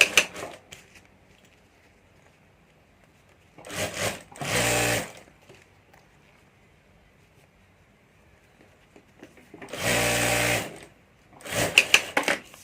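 Sewing machine stitching a zipper and lining onto a handbag, running in three short bursts separated by quiet pauses, close and clear with no talking.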